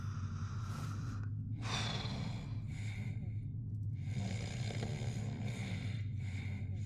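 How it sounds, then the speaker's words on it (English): A sleeping character snores in BioShock Infinite: Burial at Sea, with soft snorting, breathy intakes and slow exhales repeating over several seconds against a low ambient hum. "Snoring away, bro"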